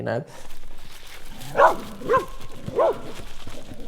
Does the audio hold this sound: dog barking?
yes